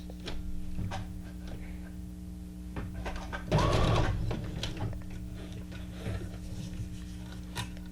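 Sewing machine stitching on a junk journal craft project: short mechanical whirring bursts with ticking, rattling clicks between them and one louder run in the middle, heard close with no talk.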